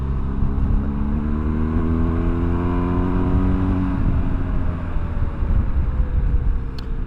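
A BMW R1250GS motorcycle fitted with Tractive suspension is ridden hard, its engine loud and close, pitch climbing through the gears over steady wind rush.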